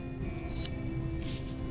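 Scissors snipping through fabric to make an earring back, two short quiet cuts over a steady low room hum, no voices.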